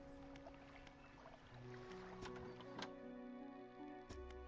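A fishing boat's engine hums low and steady in the video game Dredge, with water lapping and faint ticks over a constant droning background.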